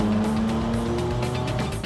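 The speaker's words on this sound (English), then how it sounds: "It's a Toyota 3S GTE, fully built, running about 30 pounds of boost." Kit car powered by a fully built Toyota 3S GTE turbo four-cylinder on about 30 psi of boost, a loud close steady engine drone with a strong low rumble and a whining tone.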